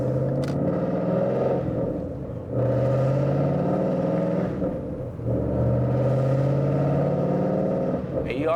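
Loud Ford Mustang GT S197 engine heard from inside while driving, a deep steady rumble that rises and falls as the car accelerates through gears, with someone talking over it.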